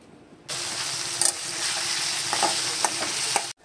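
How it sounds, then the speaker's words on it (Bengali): Potato slices coated in gram flour fry in hot oil, giving a steady close sizzle with a few soft stirring knocks and no talk. "আলু ভাজাটা হচ্ছে।"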